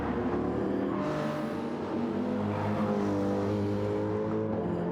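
Race cars come round a circuit in a continuous, loud engine drone with layered tones from several cars, steady throughout with a slight swell partway.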